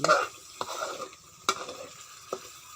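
Chili paste sizzles as it is stir-fried in a pan for a fish dish, with a few distinct clanks and scrapes of a spatula over a soft, fairly quiet frying hiss, no talking.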